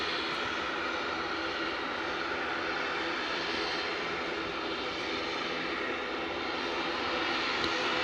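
Loganair airliner taxiing at East Midlands Airport at night, a steady loud engine roar and whine that holds level throughout.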